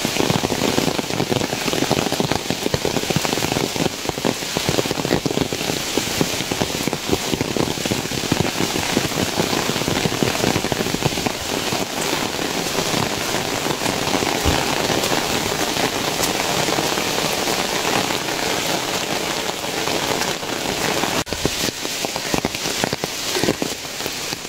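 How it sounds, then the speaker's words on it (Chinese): Heavy rain pours steadily in the Qinling mountains, a dense, loud hiss of drops on foliage along a mountain hiking trail, continuous throughout with no talking. "大雨来了，越下越大。"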